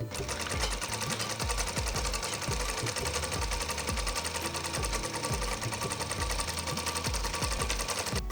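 A sewing machine stitches the sleeve seam of a kurti in a tailoring lesson, running steadily and loudly with a fast mechanical rhythm throughout, with no voice over it.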